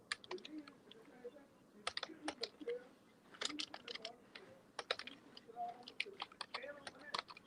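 Close, irregular bursts of clicking keys on a computer keyboard, typed in quick runs with short pauses, with faint murmured voices in the background.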